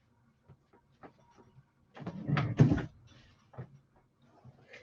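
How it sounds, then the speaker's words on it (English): Things being shuffled around a room and a door opening, with a short burst of clatter and scraping in the middle set between quiet gaps and scattered small knocks. "You're gonna hear some sounds of me moving things about and opening the door."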